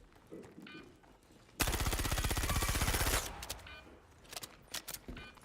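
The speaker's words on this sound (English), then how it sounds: "he dumped a full shotgun at me, a charged shotgun apparently" A charged shotgun in a video game unloading a long, dense burst of rapid, evenly spaced blasts lasting about a second and a half, followed by scattered short shots and game sounds.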